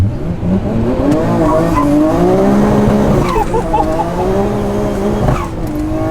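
A Nissan Skyline R34 GT-R with an aftermarket exhaust revs hard and climbs in pitch as the tires squeal and spin on launch, loud and close, with a brief voice in the mix.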